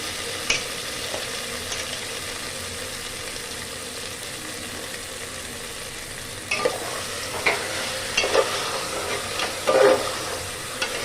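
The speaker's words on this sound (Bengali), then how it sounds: "প্রেসারের মধ্যে একটু আমি নাড়াচাড়া করে দিলাম" Browned mutton fries in a pressure cooker while being stirred, giving a steady sizzle under bursts of scraping and clattering from the spoon against the metal pot, especially toward the end, with no voices.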